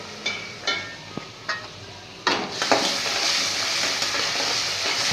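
Garlic, green chili, ginger and curry leaves drop into hot oil for vada pav filling, with a few light clinks first and then a loud, steady sizzle of frying spices held close to the pan.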